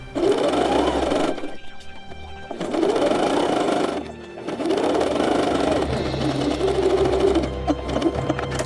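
A sewing machine stitches pleated fabric vest pieces together in several loud, close runs of rapid whirring, separated by brief pauses.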